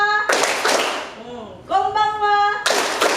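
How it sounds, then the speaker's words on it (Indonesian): A group of students clap their hands in a classroom greeting game, giving short bursts of crowded clapping that alternate with voices chanting Japanese greetings together. "Kalian tepuk sesuai dengan peraturan tadi ya"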